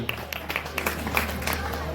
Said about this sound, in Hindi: ताली हो जाए कार्तिक जी के लिए